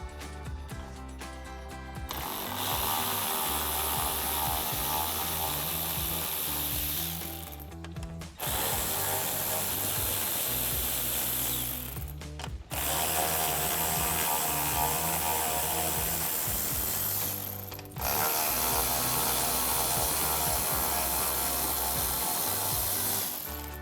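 A ratchet and socket working out headlight bolts on a 2018-2023 Ford Mustang, with several long bursts of loud, fast metallic clicking up close, separated by short pauses, and no voices.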